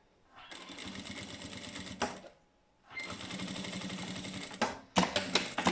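A domestic sewing machine stitches a seam along the presser foot on fabric for a patchwork bag, running in two steady bursts separated by a pause, then short stops and restarts, close and clear with no talk.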